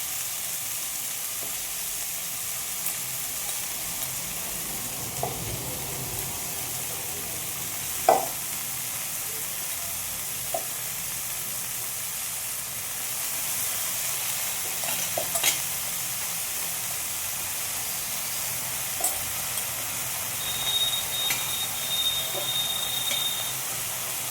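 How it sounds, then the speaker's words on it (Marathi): Chopped dill greens stir-fry in a pan in a dry vegetable dish, giving a continuous sizzling hiss with scattered scrapes and clicks of a spoon over roughly two dozen seconds, a little louder toward the end. "नंतर भाजी छान परतवून घ्यायची"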